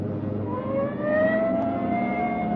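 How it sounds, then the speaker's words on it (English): A police car siren in a radio drama rises and wails over a rumbling engine, sweeping upward in pitch across a couple of seconds at moderate volume without talk. "Hit the siren."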